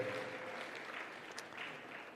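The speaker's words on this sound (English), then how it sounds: "another round of applause to Dr." Audience at a Merck Foundation Africa Asia forum gives a round of applause, a faint dense wash of clapping from a distance that carries steadily throughout.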